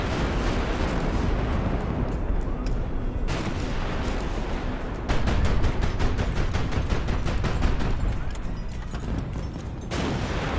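Heavy naval guns fire from an airship in Highfleet, a rolling barrage of booming shots and rapid bursts that thunders on loud and close with brief lulls between volleys.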